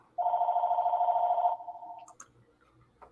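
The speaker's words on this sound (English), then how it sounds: "Phone's ringing." A telephone ringing: one loud, steady electronic ring lasting over a second, then a softer tail fading out, with a couple of faint clicks afterwards and no talk over it.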